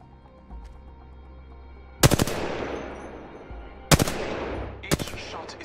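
Gunfire in Apex Legends comes as three sharp, loud bursts that ring out and decay over a low hum of game ambience, with a quieter pop near the start and no talking.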